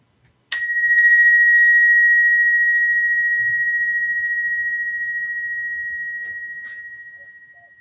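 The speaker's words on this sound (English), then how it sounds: "I'll ring the bell to signal the end of our sit." A meditation bell struck once to close a sitting session, ringing out with a clear bright strike and a long pure tone that slowly decays over several seconds, alone in a quiet room.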